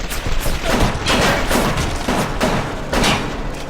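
Armor-piercing rounds fired in BioShock, a dense burst of rapid gunshots and impacts rolling together over a few seconds, loud and close with no voice over them.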